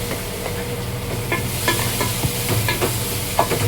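Browned onions and tomato frying in a pan in a home kitchen: a loud, close, continuous sizzle with scattered stirring clinks and scrapes, no talk.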